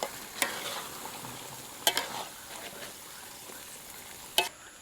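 Chicken simmering in soy sauce with red shallots and red and green bird's-eye chillies, stirred in a pan: a soft, steady sizzle broken by three sharp scraping clacks of the utensil, fairly quiet and with no voices.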